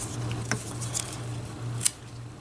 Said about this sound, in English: Decent cut through the cord.